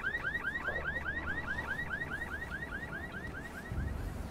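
A car alarm in the video game The Secret World wails in a steady, repeating chirping cycle, moderately loud and continuous, with a low thump near the end.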